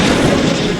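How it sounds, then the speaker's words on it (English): Cannon fire in a Total War battle game on a siege assault, heavy booming artillery rumble filling a brief, loud, dense burst of sound. "These cannons will switch fire."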